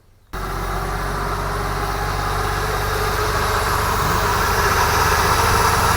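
A Holden HR ute engine fires up after carburettor work and settles into a steady, close idle with a low, even rumble. No voices are heard.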